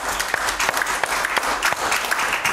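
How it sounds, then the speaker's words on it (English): A church congregation claps for the Lord at a Sunday service, dense, steady applause filling the room at close range with no speech over it. "Give the Lord a hand clap."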